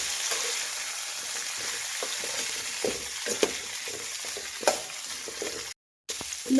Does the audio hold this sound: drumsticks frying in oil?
yes